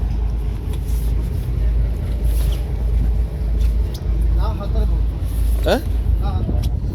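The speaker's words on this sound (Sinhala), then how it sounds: "මේ තියෙන ලොකු එන්ජින් එකක්" A large 13-ton fishing boat's big engine drones in a steady low rumble throughout, with people talking over it and some wind noise.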